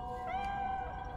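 A cat meows once in Iris.Fall, a drawn-out, tonal cry lasting about a second and heard clearly on its own without talk.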